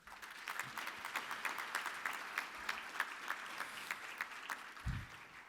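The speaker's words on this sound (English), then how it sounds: "please clap for all of us" Applause fills the hall at a Martin Luther King Jr. community leaders celebration, an audience clapping in loose sustained rhythm with distinct individual claps standing out, moderately distant, with a low thump near the end.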